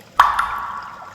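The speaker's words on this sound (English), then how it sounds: "I hear the drops hitting in the sink" A single water drop lands in a sink with a clear, bright plink that rings briefly and fades, close and alone in a quiet room.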